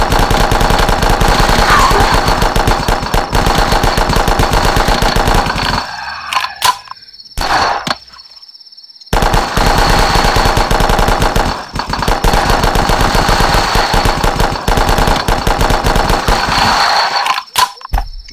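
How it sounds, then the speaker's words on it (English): Rapid Uzi machine gun fire in The Last Stand video game, loud sustained bursts of close gunfire broken by a couple of short pauses, with no talking. "This Uzi is nasty!"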